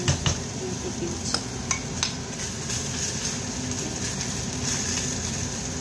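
Kimchi frying and browning in a pan for kimchi jjigae, stirred with a utensil that scrapes and clinks against the pan over a steady close sizzle, with a few sharper knocks near the start.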